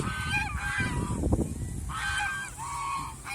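Domestic geese on a farm honk in loud, nasal bursts, several calls close together with a short pause between groups, a faint rustle underneath.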